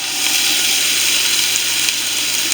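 Steady, dense sizzling from onions frying in a hot pot for curry chicken, continuous and close without pauses.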